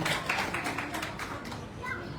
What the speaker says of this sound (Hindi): इसके लिए भी बहुत बहुत तालियां।